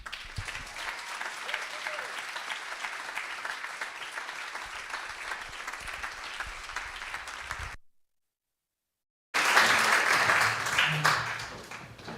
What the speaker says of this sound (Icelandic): þið megið gefa henni mjög gott klapp